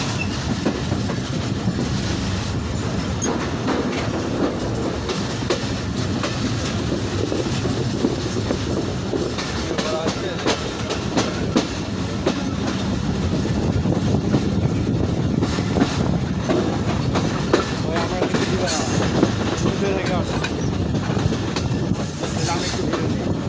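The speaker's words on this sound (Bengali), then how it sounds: "রাজশাহী অভিমুখী আন্তনগর বরেন্দ্র এক্সপ্রেস ট্রেনটি আব্দুলপুর রেলওয়ে জংশন ছেড়ে যাচ্ছে" The Barendra Express intercity train pulls out of Abdulpur railway junction with a loud, steady rumble and rhythmic clatter of wheels on rails, recorded from aboard with wind noise.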